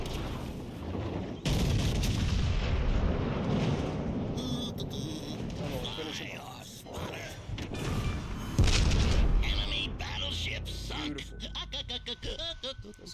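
Front turrets of the battleship Georgia fire in World of Warships Legends, a heavy naval gun salvo booming out in several loud broadband blasts over rumbling game noise, with a voice talking throughout.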